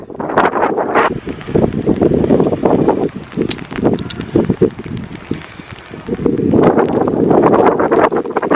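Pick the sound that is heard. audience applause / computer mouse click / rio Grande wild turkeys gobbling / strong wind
strong wind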